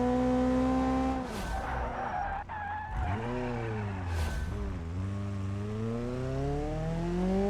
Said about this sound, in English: I thought a handbrake turn would help us out there